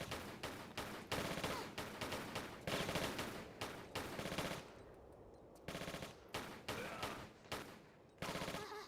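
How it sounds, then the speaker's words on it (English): Rapid gunfire in Tomb Raider IV, volleys of automatic shots aimed at the player, coming in dense loud bursts separated by brief pauses, with no talking. "Are you gonna keep shooting me while in a cutscene?"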